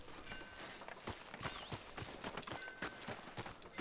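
Horse hooves clip-clop in Red Dead Redemption 2, a steady rhythmic walking beat on hard ground, moderately close and fairly quiet.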